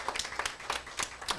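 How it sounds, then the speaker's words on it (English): A small audience at a business ceremony claps briefly in a loose, irregular rhythm. Distinct individual claps come through close and clear. "3, 2, 1 again. Let's clap for them."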